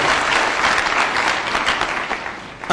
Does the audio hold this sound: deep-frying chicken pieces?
no